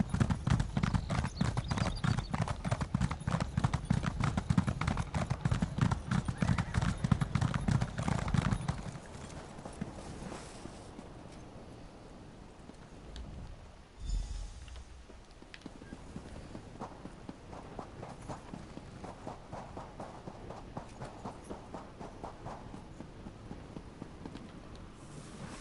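Horse hooves clip-clop in The Elder Scrolls Online, played in PS4 VR, loud and steady in a fast trotting rhythm for about nine seconds, then dropping to a softer, slower walking beat under game ambience.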